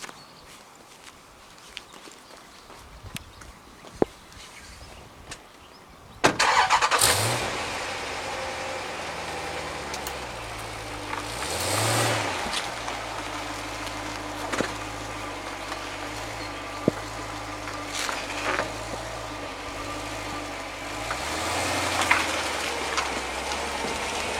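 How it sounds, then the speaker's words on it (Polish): A 2014 Jeep Grand Cherokee SRT8 with a 6.4-litre 468 hp V8 goes through a maneuverability test. After several quiet seconds its engine comes in close and steady, with the revs rising and falling repeatedly as the SUV moves. "A teraz sprawdźmy jak Grand Cherokee poradzi sobie z testem e, zwrotności."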